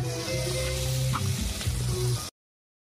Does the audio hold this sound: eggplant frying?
yes